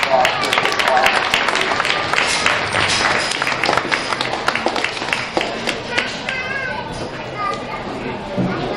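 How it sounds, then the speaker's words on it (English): Applause from spectators at a county fair swine show, dense clapping mixed with children's voices and general chatter in a busy show-ring setting, steady and fairly loud throughout. "Let's give these exhibitors a round of applause for this class."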